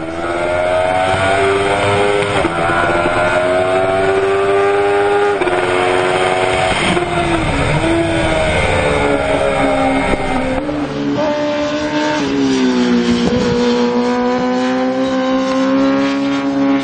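A four-cylinder Kawasaki racing motorcycle engine screams through high revs at the Bol d'Or endurance race, pitch rising and dropping between gear changes, loud and close, with no talking.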